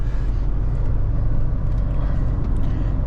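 A truck rolls onto a weighbridge while hauling lime flour, giving a steady low engine rumble with road and cab noise heard from inside, continuous and fairly loud with no talking.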